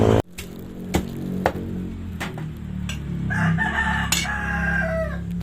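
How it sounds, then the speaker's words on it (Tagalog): Chickens cluck and a rooster crows amid a busy mix of fowl noises at a poultry market, with sharp knocks and clatter nearby; several birds close by, no talking. "Punta tayo sa bilihan ng manok."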